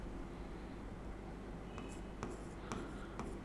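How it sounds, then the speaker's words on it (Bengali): Marker or chalk writing on a board during a Class 12 chemistry lecture, several brief scratchy strokes over a steady room hiss, close and fairly quiet, with no talk. "লিখে দিচ্ছি"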